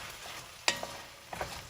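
Vegetables and garlic frying in a pot for cowboy stew, stirred with a utensil that gives a couple of sharp scraping clinks over a steady close sizzle; no one speaks.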